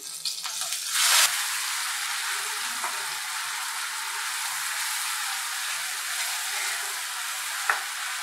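Onion paste frying in hot oil for paneer masala, a steady broadband sizzle throughout with a sharp burst near the start and occasional stirring scrapes, no voices.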